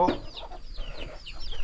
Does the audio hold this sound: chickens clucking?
yes